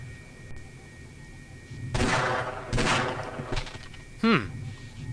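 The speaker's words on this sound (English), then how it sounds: "You can sometimes headshot him with one shot, but not this time." Gunfire in Half-Life: Blue Shift aimed at a Marine, several sharp shots in bursts with a whooshing effect sweep near the end, over game ambience.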